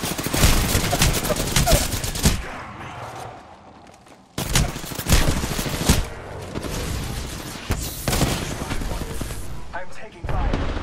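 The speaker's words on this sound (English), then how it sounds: "I'm taking fire." Gunfire in Apex Legends, with dense bursts of rapid shots close by, a short lull, then another sharp volley and continued firing, with voices talking over the fight.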